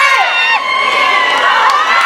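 A large outdoor crowd at a Zhongli Renhai Temple Ghost Festival celebration night cheers and screams loudly to welcome a singer, with high shrill voices and whoops rising over a steady roar for the whole moment.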